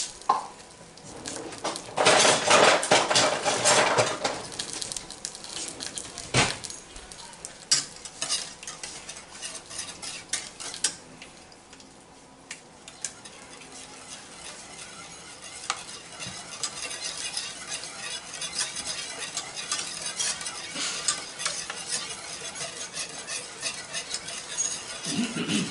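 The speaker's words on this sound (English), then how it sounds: "You want to bring it to a boil and then let it simmer" Maple syrup simmering in a pan, with steady bubbling and frequent scraping strokes of a stirring utensil throughout, nearby and moderately loud.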